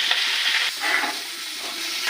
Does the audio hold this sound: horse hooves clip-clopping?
no